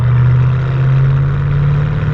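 A 2014 SVT Shelby GT500 Mustang exhaust while driving, a loud deep steady drone with a strong low rumble that holds evenly throughout, heard from inside the car with no talking.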